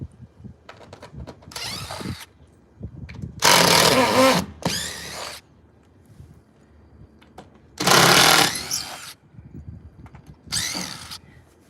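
A power driver backs metal roofing screws out of an old metal roof, whining in three loud bursts of a second or so each, with quieter short buzzes and clanks between them, close up and with no one speaking.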